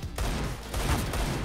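Dense, rapid gunfire from a Counter-Strike match, loud crackling bursts of shots packed closely together with no speech over them.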